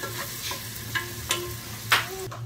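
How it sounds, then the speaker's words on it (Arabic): Onions sautéing in olive oil in a pot, a low sizzle under a handful of separate scraping stirs of a spoon, close by. "عندي هنا بصل وزيت زيتون، نشوح البصل حتى يتغير لونه شوي"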